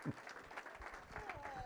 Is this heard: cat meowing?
no